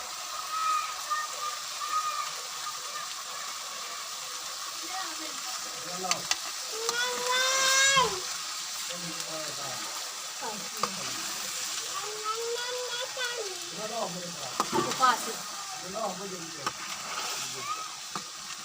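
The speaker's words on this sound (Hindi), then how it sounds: "अच्छी तरह से इसको मिक्स करेंगे मसाले में, और अच्छी तरह मसाले में इसको भूनेंगे।" White chickpeas frying and being stirred into masala in a pan, a steady sizzle with scraping stir strokes and occasional clinks, fairly close, with a voice speaking over part of it.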